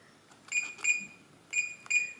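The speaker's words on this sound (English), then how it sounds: "a green flash with two beeps showing the user code has been added" Two short electronic beeps from an AmazonBasics keypad lock confirm a new user code; faint keypad button clicks come before them in a quiet room, and the pair of beeps repeats.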